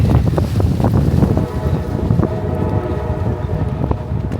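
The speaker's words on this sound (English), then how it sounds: "Guess the wind is blowing this direction." Strong wind buffets the microphone in a steady low roar with gusty rumbles, no voices, outdoors at Black Lives Matter Plaza in Washington, D.C.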